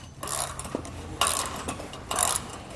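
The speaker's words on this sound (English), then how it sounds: "Come back with my ratchet and wrench and tighten it down." A ratchet wrench tightens a nut on a Malone EcoLight Sport trailer, with a few short bursts of close clicking separated by pauses, heard alone.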